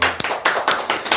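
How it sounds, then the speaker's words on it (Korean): A brief burst of clapping from a small audience at a Korean sales coaching talk, a few uneven claps with sharp taps, close and moderately loud, alone without speech. "네, 박수!"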